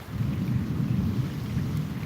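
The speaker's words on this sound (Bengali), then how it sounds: "আমাদের এখানে বৃষ্টি হচ্ছে" Steady rain pours down at night in Dhaka, a dense continuous wash of drops with a low rumbling undertone, loud and unbroken throughout, with no voices.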